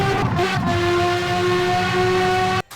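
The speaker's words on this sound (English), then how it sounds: "That's the F1 type of engine sound." A Ferrari FXX K with an F1-type engine in the racing game Asphalt 8, a loud, steady high-pitched engine whine holding one tone for nearly three seconds before cutting off abruptly.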